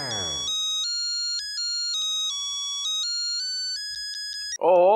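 An electronic ringtone plays a steady melodic pattern of sustained tones for several seconds, loud and close, cut off abruptly near the end.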